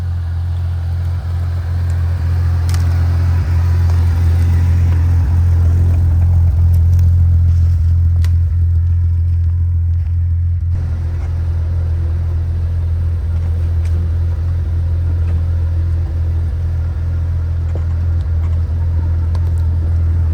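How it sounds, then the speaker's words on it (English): A Jeep drives along a backyard trail, its engine giving a steady, loud, low rumble throughout, with a slight swell partway through and no voices. "So I'll get my Jeep out on a little trail in the backyard"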